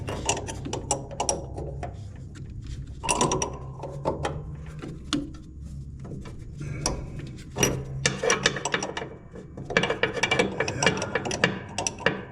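Wrench ratcheting on a pulley of a John Deere D110 riding mower during drive belt work, a run of quick close clicks in short bursts with pauses, some soft handling clatter between.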